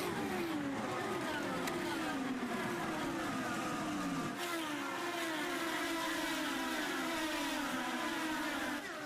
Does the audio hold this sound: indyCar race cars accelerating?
yes